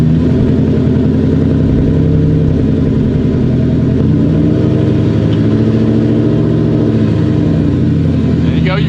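Manual Ford Mustang engine running loud and close as a learner slowly lets out the clutch, a steady low rumble with slight shifts in pitch.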